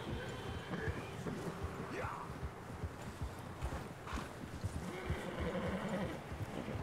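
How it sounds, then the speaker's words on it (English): Horses in Red Dead Redemption 2 give off soft clip-clop hoofbeats and an occasional whinny, moderately faint against a continuous outdoor game ambience. "Are there two horses up there?"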